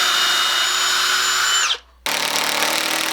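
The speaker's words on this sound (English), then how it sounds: "I'm also pre-drilling each of these holes to help prevent cracking." A power drill bores pilot holes in wood for shelf screws, a steady high whine that winds down, a brief pause, then a second burst of drilling up close and loud.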